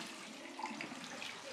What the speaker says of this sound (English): Water, heated at 73 degrees Celsius, flows from the taps of houses in the city.